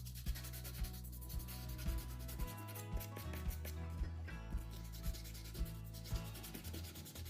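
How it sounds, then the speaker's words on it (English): Sandpaper rubs back and forth over a metal pipe hinge in steady, rhythmic strokes with regular scraping pulses, close up and alone with no voices. "Now we sand it a bit with sandpaper and degrease it."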